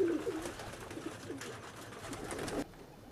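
Close, low throaty cooing from pigeons kept by a champion fancier, a few rolling phrases, with a faint hiss behind them that cuts off just before the end.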